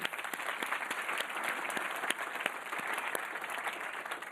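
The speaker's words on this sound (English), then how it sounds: "A big round of applause" Applause from an audience at a closing plenary session of an innovation and entrepreneurship challenge final, a steady, fairly distant wash of many hands clapping that continues evenly for several seconds.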